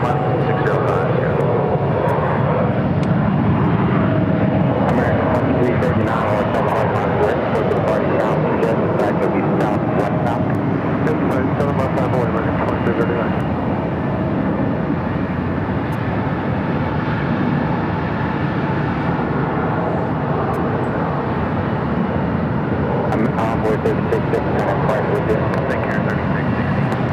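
An airliner taking off from runway 7 left at Phoenix airport gives a sustained broad engine roar, steady and fairly distant, with a person talking over it.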